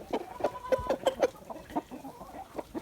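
A rooster giving a quick series of soft, low clucks to call hens to feed, close by and fairly quiet, in a short rhythmic run.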